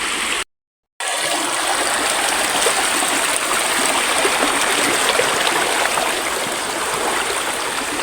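Continuous rushing water of the Lipit River flowing, loud and close, with a steady broadband wash after a brief silent gap near the start.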